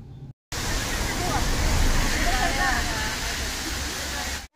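A waterfall at Malshej Ghat, heard as a loud, continuous broadband roar that starts abruptly and holds steady, with faint voices underneath.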